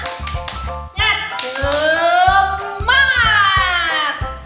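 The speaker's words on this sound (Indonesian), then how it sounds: "1, 2, 3, tepuk semangat." Children at an online church children's class do a quick rhythmic spirit clap, with steady low claps beating under high sliding voices that hold and glide in pitch.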